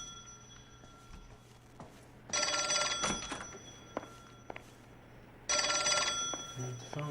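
In the video game L.A. Noire, an old-fashioned telephone bell rings in two loud, sustained bursts of jangling, separated by a quieter pause that carries light ambient clatter.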